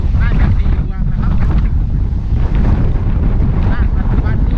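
Strong storm wind roars across the microphone at a boat pier during a tropical storm, a loud, continuous rushing blast with gusty buffeting and faint water and voices underneath.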